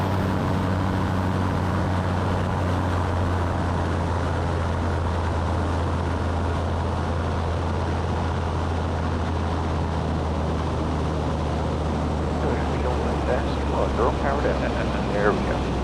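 A small seaplane drones steadily in flight as it descends toward a lake, its engine a constant low hum throughout, with faint talk from the occupants near the end.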